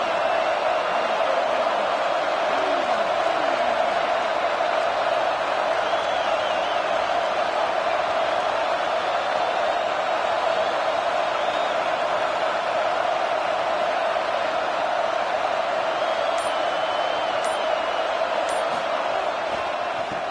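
A football stadium crowd roars to fire up its defense in a clutch moment, a dense, loud and steady wall of cheering that holds for the whole stretch.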